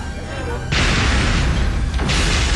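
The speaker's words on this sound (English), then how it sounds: "Suddenly, there is an explosion." A grenade explodes in a crowd at an IRA funeral in Ireland, a sudden loud burst that jumps into a sustained roaring blast, followed by a second surge moments later.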